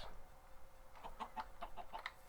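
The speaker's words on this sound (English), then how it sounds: "Look at the brown chicken." A brown chicken clucks in a Minecraft FTB server game, a run of six or seven short, evenly spaced clucks over a faint steady background hum.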